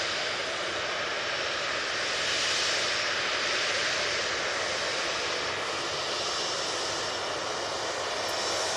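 A TUI airliner taxiing in at Manchester Airport gives a steady, broad engine roar with a high whine, holding near and even throughout with no voices.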